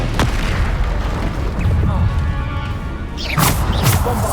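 Descendo spell impact in the Hogwarts Legacy video game, a loud booming slam with rumbling low-end debris, followed by further heavy thuds and bursts near the end, close and forceful.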